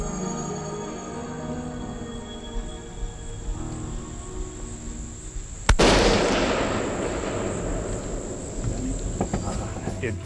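A single loud, sharp rifle shot fired at a deer while hunting cracks out midway, with a short rumbling tail over a steady background of chirping insects.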